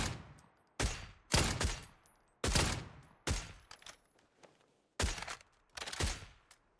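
Suppressed gunfire in the battle royale game PUBG, about seven separate muffled shots or short bursts spaced irregularly, each with a sharp onset and a trailing decay, fairly loud and without talking.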